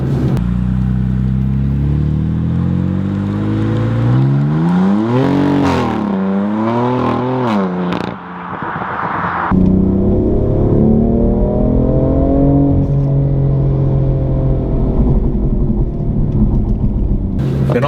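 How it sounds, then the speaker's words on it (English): A BMW M4 LCI Competition engine and exhaust rev hard in several rising and falling sweeps, loud and close. A sharp cut is followed by a deeper, steady climbing drone. "So the M4 now sounds very decent, very good car."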